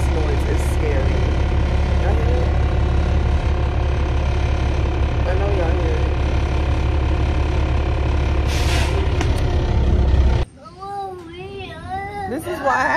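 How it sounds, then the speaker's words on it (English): Inside a city bus, a loud steady engine drone and mechanical rumble with a hiss like air brakes releasing near the end, after which the noise drops and children's voices and chatter are heard. "This bus noise is scary."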